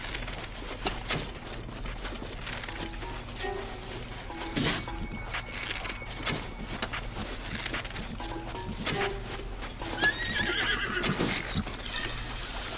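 A horse in The Legend of Zelda: Breath of the Wild whinnies over the game's background sound, with hoof clip-clops and other in-game noises running through.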